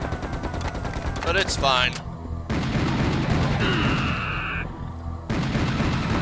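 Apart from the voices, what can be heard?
gunfire from the video game Serious Sam: The First Encounter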